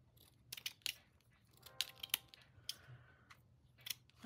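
Scissors trimming a fabric and lace sample card, a quiet close series of crisp snipping clicks at an uneven rhythm, alone without talk.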